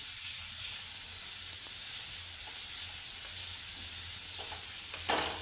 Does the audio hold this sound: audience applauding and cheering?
no